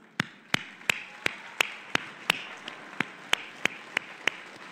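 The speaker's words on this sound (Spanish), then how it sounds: "El aplauso es para ustedes, celayenses de bien." Clapping for the new municipal president of Celaya comes as a slow, even series of sharp, distinct claps, about three per second, with no talk over them.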